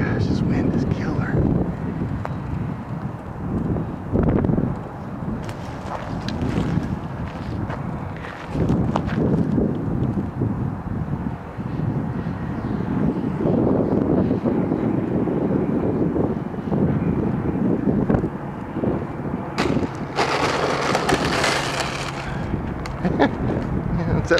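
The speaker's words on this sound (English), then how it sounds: "Gosh, this wind is killer." Strong, gusting wind buffets the microphone at a flying field during an RC flight of an FMS G Kemy trainer plane, a steady roar with surges, while someone talks over it.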